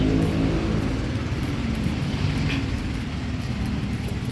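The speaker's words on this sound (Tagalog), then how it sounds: "Daanan ng train." An LRT light-rail train passes near a fish port with a steady, heavy rumble and broad roar that holds at an even level throughout, with no talking.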